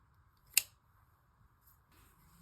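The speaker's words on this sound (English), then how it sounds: "now we're going to cut our yarn" Scissors make a single quick, crisp snip through crochet yarn up close, followed by quiet handling sounds.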